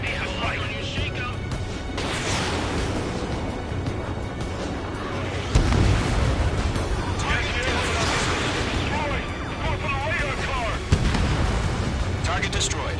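Missile strikes and blasts in a PS4 war game, booming bursts and crashing impacts layered over steady loud battle noise, with a sharp jump in intensity around the middle and another late hit, while voices talk throughout.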